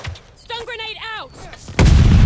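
After a brief tonal warble, a stun grenade goes off in Call of Duty: Vanguard as a sudden loud, harsh blast that holds as a broad, noisy roar to the end.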